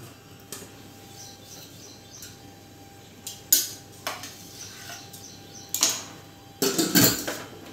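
Metal pots and utensils clatter in a home kitchen while a pressure cooker is set up for rice, with several sharp, irregular clanks close by that grow louder and denser toward the end, and no talking.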